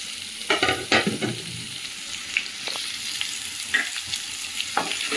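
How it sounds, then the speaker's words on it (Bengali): Bilati amra (hog plum) fries in a pan with a light crackling sizzle, interrupted by several sharp stirring scrapes and knocks, with no voices. "ততক্ষণ আমি এটাকে ভালো করে ভেজে নেব।"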